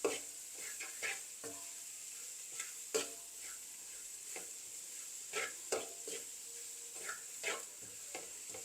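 Onion frying with dried baby prawns in a pan for sambol, a soft sizzle under repeated stirring scrapes and taps at an irregular rhythm, close and fairly quiet.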